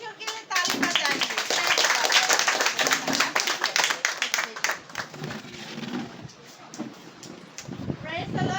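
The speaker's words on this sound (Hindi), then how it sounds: "आइए जोर से परमेश्वर के लिए ताली बजाइए" A church congregation in a village in Assam claps loudly in praise of God, brisk overlapping hand claps that swell and then thin out, with voices calling over the clapping.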